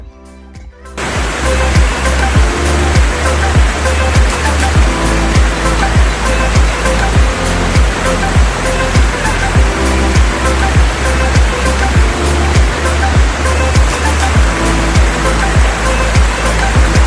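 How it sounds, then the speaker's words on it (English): A pleasant waterfall beside a walking path in Pateley Bridge, Nidderdale, roars as a loud, steady wash of rushing water close by, sustained without pause throughout. "Opposite the sculpture is this pleasant waterfall."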